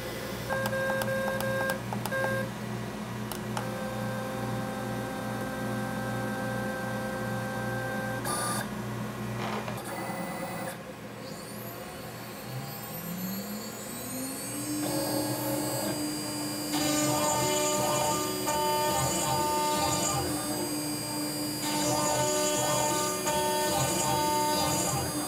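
A vacuum hold-down pump on a CNC machine hums steadily nearby, holding a guitar workpiece, with a droning motor tone and shifting whines running continuously throughout.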